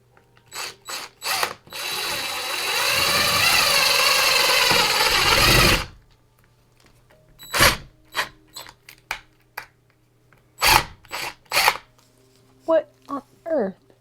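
A power drill bores through drywall in one sustained loud whir lasting about four seconds, followed by scattered knocks, clicks and brief talk.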